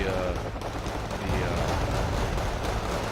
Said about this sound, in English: Bombs and artillery still landing